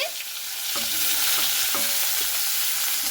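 Onions sizzle in hot oil with black cumin in a wok for a small-fish curry, a steady close frying hiss with a few stirring scrapes and clinks, no voices.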